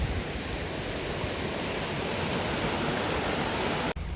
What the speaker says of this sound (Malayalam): ഇതാണ് ഒരപ്പാനിയിലേക്കുള്ള ഒരു തോട് കേട്ടോ.